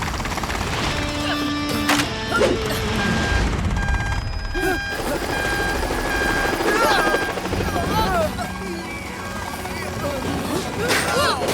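A helicopter's rotor chops and whirs through an animated cartoon action scene, heard under loud dialogue, music tones and scattered crashes and bangs.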